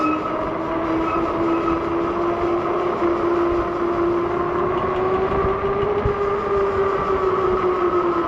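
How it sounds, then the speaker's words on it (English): The rear brakes of a fast WINDONE K2 e-bike squeal in a continuous, steady whine with a rough rolling rumble underneath, lasting throughout without pause. "Oh, the back brakes are making noise."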